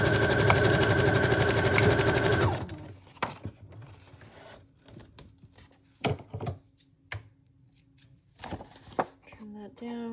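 A sewing machine runs a zigzag stitch across paper junk journal pages in a fast, loud, steady whir for about two seconds, then stops. Soft handling clicks and rustles follow.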